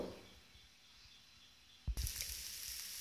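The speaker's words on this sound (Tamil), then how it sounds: "இப்போ எண்ணெய் ஊற்றிட்டேன் இது கொஞ்சம் நேரம் வேகட்டும்" Wheat dosa frying in oil on a griddle over medium flame, a soft steady sizzle that jumps louder after a brief burst of clatter midway, then hisses on brightly to the end.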